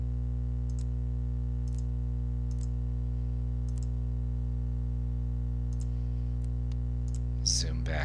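Sharp, isolated mouse clicks fall at irregular intervals over a loud, steady electrical hum while working in Photoshop Elements 9 with the Magic Eraser tool. A brief rustle comes near the end.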